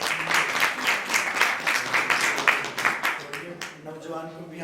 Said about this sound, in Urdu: ان کے لیے بھی ذرا تالیاں بجا دیں